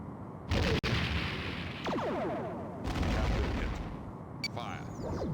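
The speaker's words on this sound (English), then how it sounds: "Fire all weapons." Starship weapons firing in the Star Trek: The Next Generation game A Final Unity, with repeated blasts and sweeping laser-like tones over a constant roar of combat noise, loud and close.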